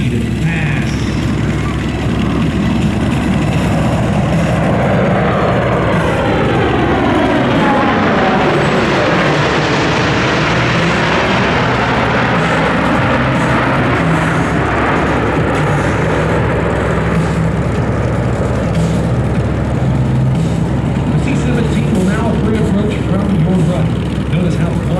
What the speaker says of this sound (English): from the left, the C-17 Globemaster III and the high-speed pass.